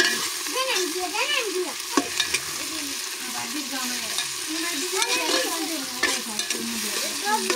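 Organic meat sizzling in a pan with tomato and onion, stirred steadily throughout, with a constant frying hiss and frequent scraping of a utensil.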